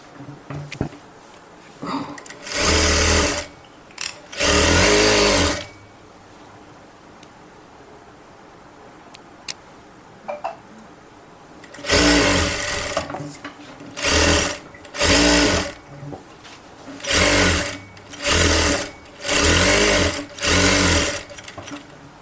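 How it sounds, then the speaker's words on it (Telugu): A sewing machine stitches around piping in several loud, separate bursts: two at first, then a long pause, then a run of short stitching spurts with brief gaps between them. Faint background sound fills the quiet stretches. "ఫస్ట్ నేను చుట్టూరు స్టిచ్ చేసేస్తాను."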